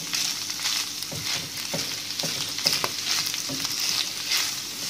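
Squid pieces sizzle with mushrooms in a frying pan, a steady loud crackle of hot oil with occasional soft stirring scrapes, close up and without talk.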